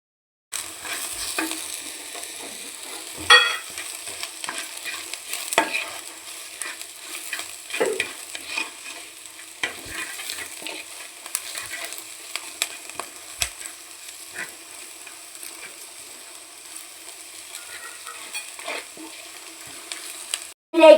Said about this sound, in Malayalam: നന്നായി ആ എണ്ണയും ഉള്ളിയും പച്ചമുളകും എല്ലാം കൂടെ നന്നായി യോജിക്കട്ടെ